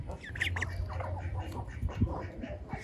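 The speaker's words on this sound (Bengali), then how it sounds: "বড় হাঁসগুলো চলে আসছে" Several ducks quack and squawk in short, uneven bursts as they move closer, fairly near and steady over background noise, with no talking.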